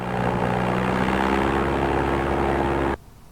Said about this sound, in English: An airplane motor.